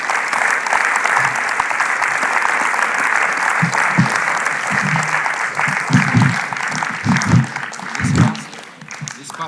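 An audience applauding a speaker at a talk on dreams and spirituality, loud sustained clapping close by, with a few voices and cheers rising through it near the end as it starts to fade.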